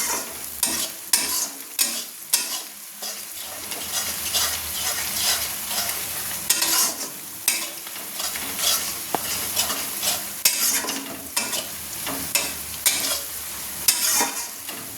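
A spoon scrapes and stirs chopped onion and spices frying in a pan for mutton kosha, with a steady close sizzle and repeated rhythmic scraping strokes throughout, no voices.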